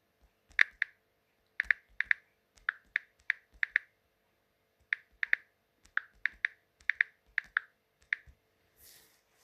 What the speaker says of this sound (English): let me just type it in again.